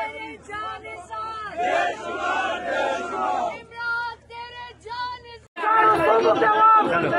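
A crowd of political workers gathered at Zaman Park roars slogans in response to a leader's call, loud massed shouting in bursts after a single amplified voice leads, rising into a dense full-throated chant at the end.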